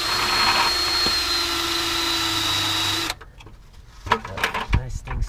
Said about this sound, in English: we're gonna drill a hole in the bottom of the pan